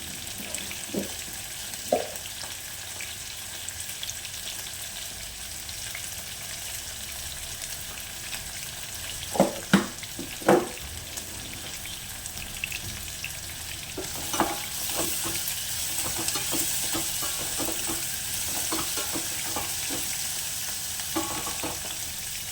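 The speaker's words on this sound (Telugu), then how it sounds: "వేగేటప్పుడే మనము దాంట్లో కొంచెం సాల్ట్ వేసుకుంటే ఆనియన్స్ తొందరగా వేగుతాయి" Chopped onions with salt sizzle steadily in a pan for a dish of stuffed ridge gourd masala curry, with a few sharp stirring clinks of a spoon against the pan and a faint watery hiss underneath.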